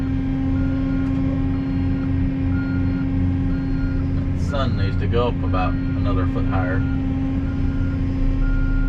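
Steady high reversing beeps from a truck repeat evenly over a low engine rumble while someone talks over them, at a pond construction site.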